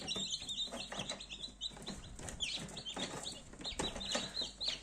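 Many newly hatched incubator chicks, Faverolles and Brahma, peeping rapidly and overlapping, high thin chirps in a busy cluster, fairly quiet and close.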